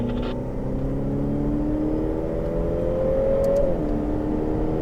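A Ferrari F8 Tributo engine revs up steadily, its pitch climbing as it accelerates, then dropping briefly with a gear change before pulling again.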